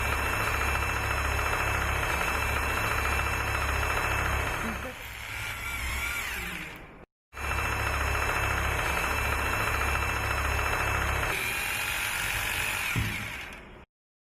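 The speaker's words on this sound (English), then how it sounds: "Drill carefully 2 holes into the sticker markings using 8 mm drill" A power drill with an 8 mm bit bores two holes into a wall to mount an RO water purifier filter, whining loudly and continuously in two long bursts with a brief pause between them.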